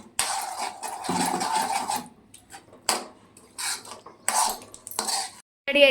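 Food gets stirred in a pan on the stove, with a spoon scraping and clinking against the metal in short repeated bursts broken by brief pauses, close and fairly loud with no talk.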